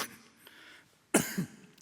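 A preacher with lingering post-COVID symptoms coughs at the pulpit, a faint throat sound first, then a sharp close cough burst followed by a second smaller one.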